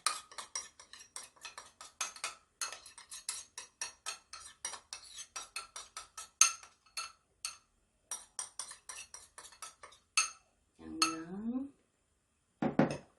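Rapid clattering and clinking of a frying pan and dishes while making a mackerel dish, close and irregular, with short pauses and a brief voice near the end.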